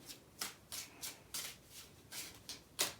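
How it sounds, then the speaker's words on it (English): Tarot cards are riffled and shuffled by hand in quick, crisp bursts, about seven evenly spaced flicks close by and fairly quiet, with no voices. "I'm going to shuffle 3 times."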